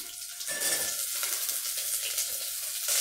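Small onions and capsicum sautéing in a hot pan, with a steady, close sizzle and a few stirring scrapes throughout, no talking.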